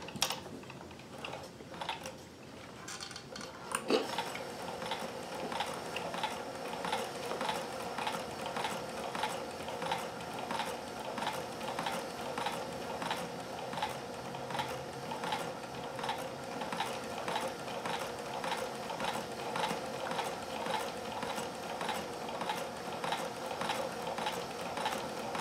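Singer 26538 embroidery attachment running on a sewing machine, a quiet, even mechanical clatter with rapid regular ticking that starts after a few seconds of shuffling and continues steadily to the end.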